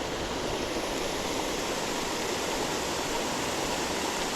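Waterfall at sunset beside a largemouth bass fishing spot, a steady, dense rush of falling water that holds constant and loud throughout with no voices.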